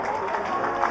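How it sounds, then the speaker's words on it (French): A crowd clapping for a player in a Brest versus Tours match, a brief wash of spread-out applause and crowd noise, moderately loud and steady. "On l'applaudit. On tape dans les mains."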